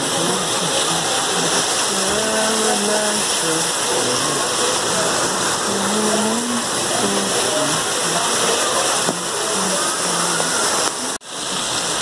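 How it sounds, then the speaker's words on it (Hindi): Heavy rain pours down in a dense, constant rushing hiss that stays loud and even throughout, with a voice talking over it. "बहुत तेज़ बारिश हो रही है भाई, मज़ा आ गया।"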